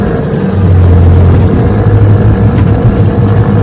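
An old Johnson 9.5 HP outboard motor with an upgraded fuel pump runs on the water, a loud, steady, close engine drone with a low hum throughout.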